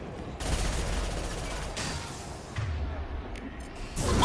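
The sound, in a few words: gunshots in video game Mass Effect 2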